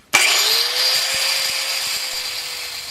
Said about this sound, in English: so we just drill our holes.